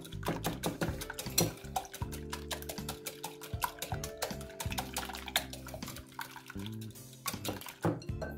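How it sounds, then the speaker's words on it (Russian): Eggs with salt and pepper being whisked for a fish pie filling, rapid, close clicking strokes of whisk against bowl in a quick steady rhythm, punctuated by a few louder knocks, with no talk. "Хорошо взбиваем"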